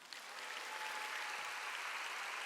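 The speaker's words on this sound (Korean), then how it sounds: "하나님의 자녀인 걸 믿고 박수 치세요." A church congregation claps together in a quiet but dense, even patter of many hands, building slightly and then holding steady, heard from a distance.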